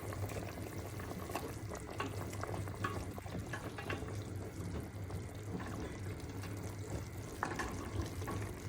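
Pieces of meat frying in a pan for mrouzia, a steady low sizzle with scattered clinks and scrapes as the meat is stirred and turned, fairly quiet and without talk.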